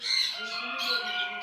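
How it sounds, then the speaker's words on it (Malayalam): Small birds in Silsila Park calling near at hand, a short burst of bright, busy chirps and squawks over about a second and a half, with no talk. "ഇത് പിന്നെ അതിലേറെ ചെറിയ കിളികളാണ് കേട്ടോ"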